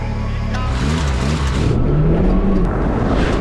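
A car drives along with a loud, steady engine drone and road noise, the engine pitch rising and falling as it shifts and accelerates, heard from inside or close by.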